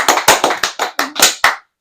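A small podcast group claps together in about eight loud, close, slightly uneven bursts over under two seconds, then silence.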